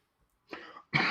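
Two short coughs from a person close to the microphone, the first lighter and ragged, the second sharper and louder, separated by a brief silence in an otherwise quiet room.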